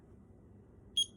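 A kitchen timer, set for an hour while banana bread bakes, gives a single short, high beep as start is pressed, standing out over quiet room noise.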